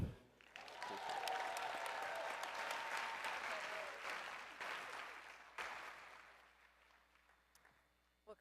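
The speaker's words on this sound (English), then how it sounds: "let's give him another round of applause because he deserves that" Applause from a crowd at an awards celebration luncheon, swelling quickly and holding steady before slowly tapering off, with a few scattered claps at the end.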